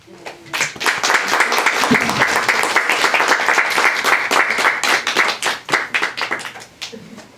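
Audience applause at a hybrid poetry reading, welcoming poet David Rivard; steady, dense clapping from a crowd that swells quickly, holds for several seconds, then thins into scattered claps and fades.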